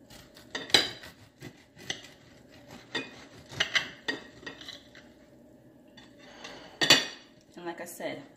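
A knife slices a toasted sausage sandwich on a plate, producing several distinct clinks and scrapes of metal on crockery, irregularly spaced and close, with quiet movement between them.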